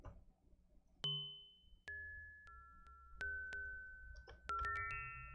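Bell-like synth notes from an Ableton Live bells instrument preset strike one after another, each ringing out with a clean sustained tone. They build into a short, sparse melodic sequence of about eight chimes over a soft low drone.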